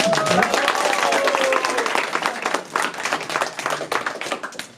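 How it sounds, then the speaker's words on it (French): Dense, lively applause from a school audience of pupils and guests for the pianist Cléa at a slam project performance, many hands clapping continuously and loudly close by, with faint voices mixed in. "On peut quand même l'applaudir pour ça."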